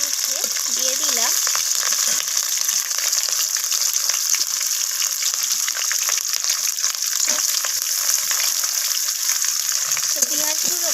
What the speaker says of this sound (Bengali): তো পেঁয়াজগুলোকে আমি হালকা লালচে রং করে ভেজে নিচ্ছি।